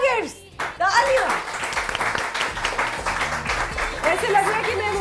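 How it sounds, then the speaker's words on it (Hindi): Studio audience clapping on a morning television talk show, a moderate patter of hands mixed with voices speaking over it. "दो गिफ्ट्स, तालियां।"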